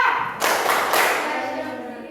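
A school class claps a rhythm together in a short, loud burst, then the sound quickly fades away.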